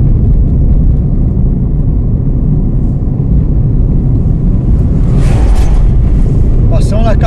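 A semi-trailer truck passes on a rough, potholed, dusty rural asphalt road. A loud, continuous low rumble and road vibration fill the clip, with faint voices under it.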